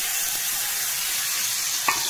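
Chopped tomato fries in a hot pan with black cumin and turmeric, giving a steady, close hiss of sizzling with a single faint clink near the end and no talking.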